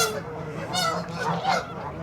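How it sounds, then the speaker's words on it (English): A flock of geese at a pond honks in bursts, several calls overlapping nearby with brief dips between them. "The geese are squawking crazily today."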